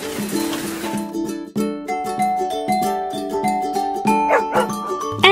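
Toy farm dogs from a children's electronic farm animal set bark repeatedly in a quick, rhythmic pattern of electronic yips mixed with tinny melodic tones, close and clear with no talking.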